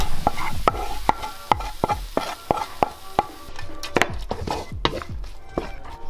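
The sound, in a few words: frying chili omelet with buckwheat noodles in Bhutan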